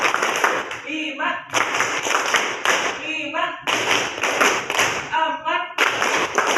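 A group claps hands together in a counted sequence during a classroom exercise, the bursts arriving in clustered runs and mixed with voices counting aloud.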